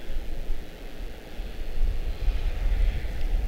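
A 25-year-old American Airlines Boeing 777-200 jet airliner at Charlotte-Douglas International Airport gives a steady, loud, low engine roar. Broadband rumble with wind noise holds for a few seconds and swells slightly toward the end, with no voices.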